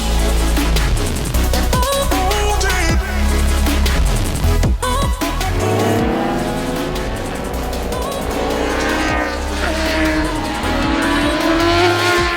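A BMW M 1000 RR superbike, built to World Superbike regulations, screams loudly around a race track, its engine revving hard up and down through gears with shifting pitch sweeps and a steady roar throughout.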